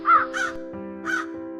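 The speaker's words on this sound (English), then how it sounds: "she followed the familiar calls of her raven friends" Ravens in a Scandinavian forest give loud, hoarse caws, a few distinct calls spaced apart with a steady tonal hum beneath, with no one talking.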